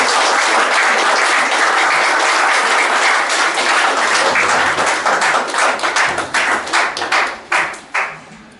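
A church congregation applauds loudly at a Sunday service, dense steady clapping that thins toward the end into scattered, separate claps before fading out.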